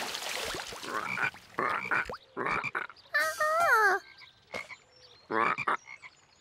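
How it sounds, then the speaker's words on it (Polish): A noisy frog in a children's cartoon croaks in repeated loud, close bursts, with a warbling, bubbly call in the middle and short gaps of quiet between croaks. "Pewnie wszystkie kijanki wystraszyła ta hałaśliwa żaba."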